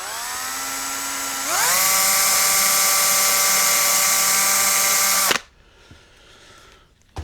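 A small power drill with a 1.5mm bit whines at a steady pitch, rises as it speeds up and bores a pilot hole for several seconds, then cuts off abruptly, leaving quiet room noise.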